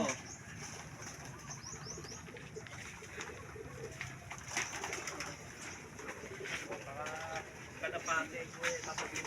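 Pigeons at a racing-pigeon derby loft coo softly amid a busy outdoor background of other birds and rustling, with brief chirps and some wing flutter; low voices murmur faintly.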